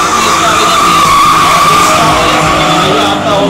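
Loud, sustained tire squeal and engine roar from a BMW 325 drift car skidding through a qualifying run at a season-final drift event, continuous throughout with faint commentary underneath.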